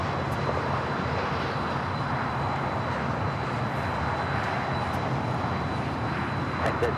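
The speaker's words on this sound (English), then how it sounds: "We also have another A220 that just landed coming in from Pittsburgh." Airbus A220 airliner landing at Los Angeles airport, a steady, loud broadband engine roar that holds evenly throughout with no pauses.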